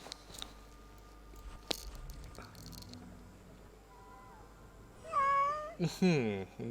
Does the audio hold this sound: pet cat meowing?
yes